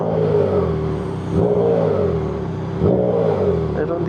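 A Triumph Trident 660 motorcycle engine revs in repeated mid-pitched rises and falls, running steady and fairly close. Someone talks over it at times.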